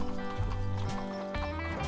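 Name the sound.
wagon train horses walking on trail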